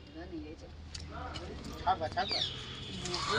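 Pigeons in a loft, Lal Jira and Madrasi breeds kept with their young, coo in a few soft, low, rounded calls. The calls sit over a murmuring background, with a brighter chirp late on.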